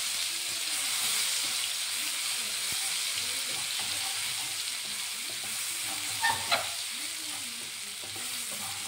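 Garlic fries in a pan with cumin, ginger, coriander and sambar coriander stems, a steady close sizzle with gentle stirring scrapes and a couple of brief sharper clinks.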